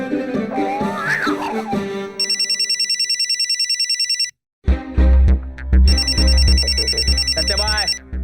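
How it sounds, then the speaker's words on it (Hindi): An electronic telephone ring trills in two long bursts, bright and steady, between stretches of talking and background music. "भाभी का फोन आ रहा है।"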